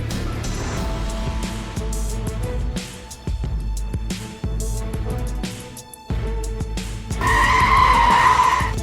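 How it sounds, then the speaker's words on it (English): A pickup truck slides and skids on an icy road, a loud continuous scraping rumble with broken surges, ending in a brighter, louder squealing burst near the end; no talk. "the pickup truck slides like roller skates on ice"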